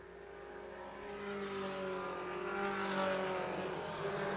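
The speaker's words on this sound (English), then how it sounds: "Looks like Hall got that car back together after the damage in the heat race" Race cars running in a feature race, a steady distant engine drone with overlapping tones rising and falling as the field passes, faint and without talk.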